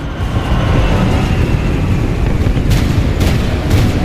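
Continuous heavy rumbling barrage with booming low-end blasts and sharp crackling bursts, loud and sustained throughout, like artillery fire in Titanfall 2.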